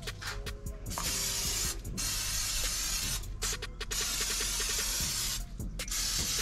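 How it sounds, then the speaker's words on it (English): Spray butter hissing from a pump can onto a smoked spatchcock chicken with cherry pineapple habanero seasoning, long loud continuous bursts broken by short clicking pauses, close up with no talk. "I'm gonna go ahead and get us some spray butter."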